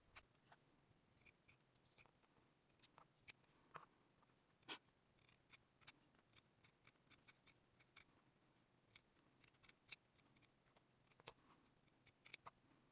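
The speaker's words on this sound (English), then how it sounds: "One important tip when trimming the pattern is to keep your scissors vertical and not angle the blades" Scissors trimming a beaded brooch appliqué, giving a series of sharp, quiet, close snips at an irregular pace against near silence.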